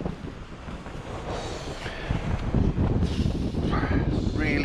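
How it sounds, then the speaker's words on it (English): Strong wind buffets the microphone at a wild camp on High Cup Nick, a loud continuous roar and rumble with gusts that swell and fade, while people talk over it. "That wind is awful."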